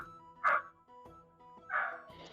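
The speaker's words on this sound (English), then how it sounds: "That is a very happy dog." A happy dog barks twice, a few light yips well apart, heard at moderate distance over a faint steady background hum.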